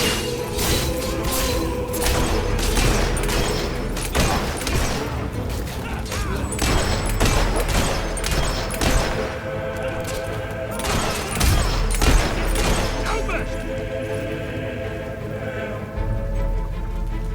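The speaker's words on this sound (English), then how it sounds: "Damn rebel is firing at me!" Rebels in the video game Fable 3 fire guns in repeated sharp cracks and bursts amid a busy, loud battle mix with clanks and booms, with shouted voices in between.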